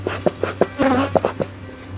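Agitated honey bees buzz around an open hive box, with close, rapid buzzes passing near in short bursts over a low steady background hum.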